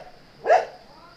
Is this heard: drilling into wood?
no